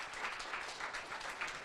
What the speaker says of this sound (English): Would you please give these people a round of applause?